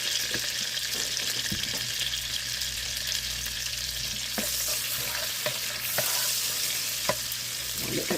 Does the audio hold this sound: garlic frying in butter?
yes